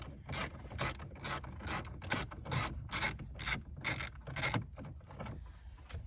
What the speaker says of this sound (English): So we got to take this 7mm out of here